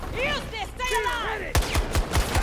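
Shotgun blasts from a shooter video game ring out in a quick series of five sharp reports, following a stretch of tonal game sounds at the start.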